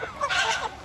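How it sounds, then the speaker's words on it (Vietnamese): A free-range rooster crows once in a garden flock, a short, loud, hoarse call with a rising and falling pitch lasting under a second, heard close and alone. "Quay cho mọi người cái con gà trống này thôi nha."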